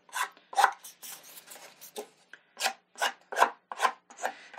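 Nuvo Empire Blue ink pad brushed lightly along the edge of a cardstock piece, giving a series of soft, close scuffing rubs in an uneven rhythm, with no talking.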